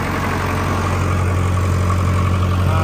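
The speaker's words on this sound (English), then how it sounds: "we're just letting the tractor come up to temp here" A Case 1370 tractor engine idles while warming up, a loud, close, steady low rumble with even throbbing and no change in pace over the few seconds, with no voices.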